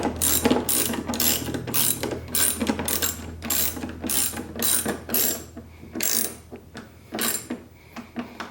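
A hand ratchet tightens bolts on a motorcycle headlight bracket, heard as repeated close, crisp clicking bursts in a steady back-and-forth rhythm, with no talk.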